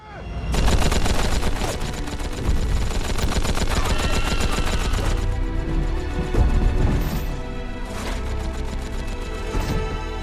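A machine gun in a samurai-era battle scene firing long rapid bursts, loud and dense with sharp repeated cracks, briefly pausing before more volleys.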